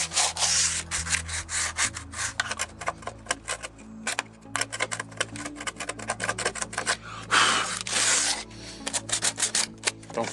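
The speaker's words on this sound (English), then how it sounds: "you do your sanding." Hand sanding scrapes back and forth over the wooden exterior of a house during paint preparation, a close, rhythmic rubbing of quick repeated strokes.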